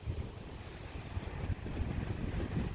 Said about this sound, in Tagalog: Yung mga puno nagsuswing sa lakas ng hangin